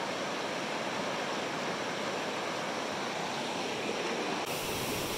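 A clear river flows at a crossing on the way to Lubuk Kudo, giving a steady, full rushing wash of water that stays even and close throughout, with no voices.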